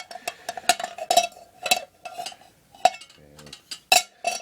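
Metal pieces of a Ghillie Kettle Adventurer Kit clink and tap against a metal pan in a series of bright, irregular knocks and scrapes, close and fairly quiet, with short pauses between contacts.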